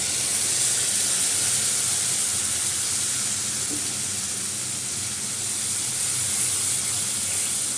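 A yogurt and mustard paste added to a hot pan gives a steady, even hiss of sizzling steam that holds for several seconds without pauses or voices.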